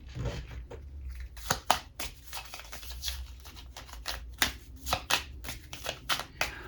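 A deck of tarot cards is shuffled by hand in quick, crisp riffles and slaps, close up and fairly quiet, with soft talk in the background.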